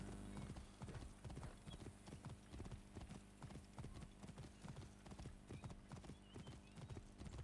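Steady clip-clop of horse hooves at a brisk pace, with a faint whinny, continuing throughout in a game soundscape.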